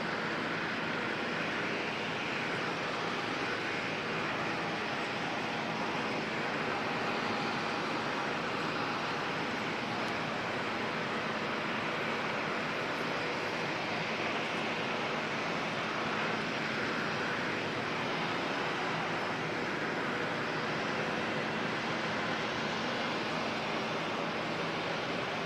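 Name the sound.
Airbus A320 in black livery departing Auckland for Wellington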